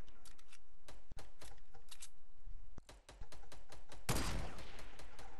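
Bursts of rapid gunfire fill a shooter video game, with quick sharp repeated shots, a short pause, then more volleys and a louder dense burst near the end, heard up close without talk.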